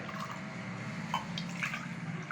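Ashwagandha powder mixed in water is poured back and forth between vessels, giving a faint, steady trickle and splash of liquid that runs continuously at low volume.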